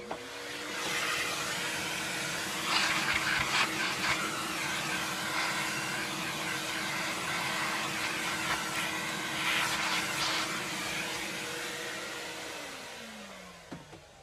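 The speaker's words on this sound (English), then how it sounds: "I forgot to vacuum the switch." A vacuum cleaner runs over the switch of a Kirby Sentria 2 main motor during servicing, a steady droning whine with a few clattering bumps partway through, then the motor winds down near the end.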